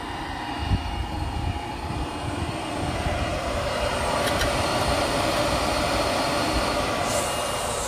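A steady, continuous 1.75-horsepower pond aerator motor drones over a churning, rushing wash of water in a fish tank, unchanging throughout.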